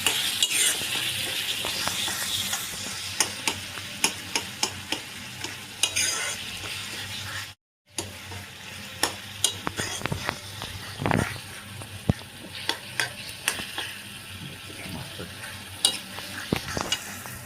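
Tomato curry frying in a pan, a continuous loud sizzle with regular spoon scrapes and taps against the metal as it is stirred, close up, with a brief silent gap midway.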